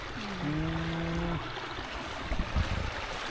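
Water flowing along a rural stream in Laos during the rainy season, a steady broadband rush that runs throughout, with a few low bumps and a brief tonal sound near the start.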